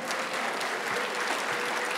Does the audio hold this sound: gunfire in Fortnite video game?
no